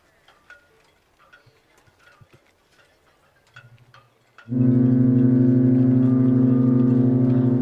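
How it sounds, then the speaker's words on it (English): The cruise ship Queen Mary 2 sounds its horn: a deep, very loud, sustained blast bursts in after several seconds of faint ticking and background noise, then holds steady to the end. "well, there was some honking there."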